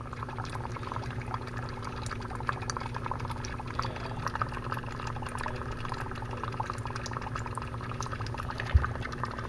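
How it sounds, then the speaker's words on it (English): Dry ice sublimating in water in a classroom lab bubbles and fizzes steadily, a continuous soft gurgling churn of carbon dioxide bubbles close by, with one brief louder knock near the end. "Those bubbles are carbon dioxide, right? Because it's sublimating, going straight to the gas."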